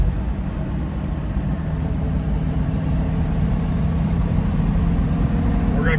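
A 1968 Shelby GT350 convertible with a 4-speed runs steadily in a low, continuous engine drone that holds close and loud for the full stretch, with no clear rev spikes marking individual downshifts.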